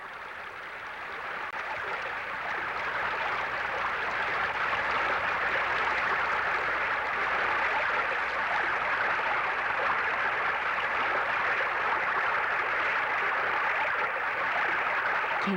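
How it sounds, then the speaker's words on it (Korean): A mountain stream runs through a forested valley on Saja Mountain in Yeongwol, spilling through small pools and little waterfalls. The water makes a continuous, even rush that swells in the first seconds and then stays constant. "계곡은 작은 연못과 작은 폭포와 작은 강물을 이루며 쉼없이 흐른다."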